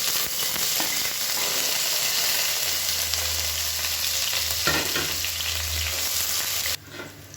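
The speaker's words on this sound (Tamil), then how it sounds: "இப்போ இதில் நீளமாக நறுக்குன பெரிய வெங்காயம் வந்து சேர்த்துக்கலாம்." Sliced large onions fry in hot oil for tomato rice, a steady loud sizzle with occasional stirring scrapes, cutting off abruptly near the end.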